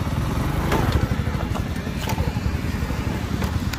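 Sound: motorcycle riding on a rough road

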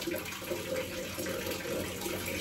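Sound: running water while washing face

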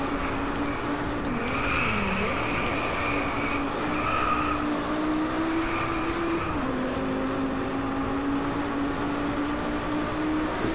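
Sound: car braking and skidding in DRIVECLUB racing video game

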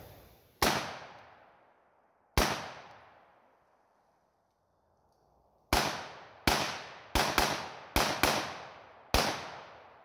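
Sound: rapid gunfire from budget build rifle

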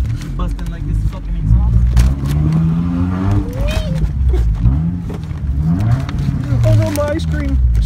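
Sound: car exhaust revving

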